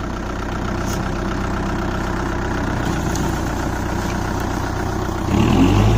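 A Kubota MU4501 four-cylinder tractor runs in low first gear, giving a steady, close diesel chug with a slight shift in tone and a low thump near the end.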